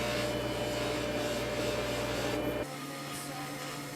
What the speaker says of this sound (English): a stitched white muslin buff with yellow rouge